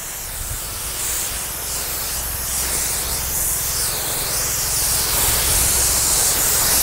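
A pressure sprayer hisses steadily as an insecticide mix is sprayed onto chili plants in a garden, a loud, continuous broadband spray that swells slightly in the second half.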